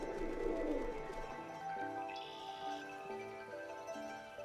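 Birds call softly in the distance, a pigeon or dove cooing with a few faint chirps over a low steady background hum.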